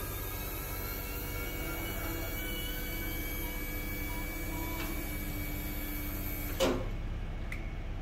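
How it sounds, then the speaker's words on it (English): A BraunAbility wheelchair lift on a vehicle raising, giving a steady motor hum with faint tonal whine throughout, ending with a brief clunk as it reaches the top. "then you're ready to raise it. You do that by going to that top switch, just pressing the up button."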